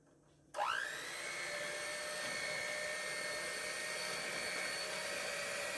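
Electric beater whirring through the wet ingredients for an eggless chocolate cake. It switches on abruptly, its pitch rising quickly, then settles into a steady, fairly faint motor whine that holds to the end.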